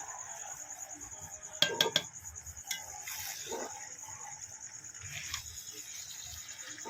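A ladle stirs herbal pachon in a cooking pot and a wok, giving a few scraping clinks close by against a steady background of chirping insects.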